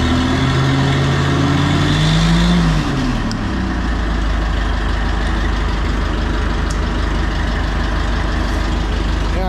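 An Oliver 66 tractor engine runs after a governor adjustment, loud and close, starting with a rising and falling rev, then settling into a steady, even idle.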